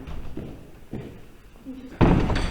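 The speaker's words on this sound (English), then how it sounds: "That's a big, heavy door" A big, heavy door in an old country church slams shut with a loud, low thud near the end, after a stretch of quiet room tone and faint shuffling.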